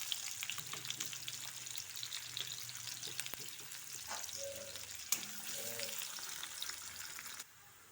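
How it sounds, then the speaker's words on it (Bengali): Chopped onions sizzle steadily in hot oil in a pan, a continuous close frying hiss with a few soft pops and light stirring clinks, no talking, ending in a quieter tail. "এবার আমার তেলটা গরম হয়ে গেছে, আমি পেঁয়াজ কুচিগুলো দিয়ে একটু লাল লাল করে নেব।"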